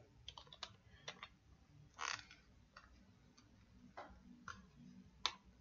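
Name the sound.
typing a command on a computer keyboard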